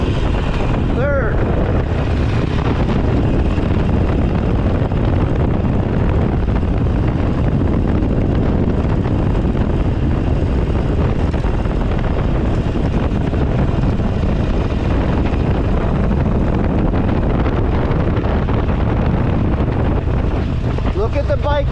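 Motorcycle ride with steady engine drone and strong wind rush throughout while a rider shifts through second and third gear, loud and continuous, with a voice talking over it.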